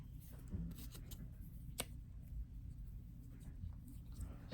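Scissors cutting through thick packaging, faint snips and crinkling close up over a soft background rumble.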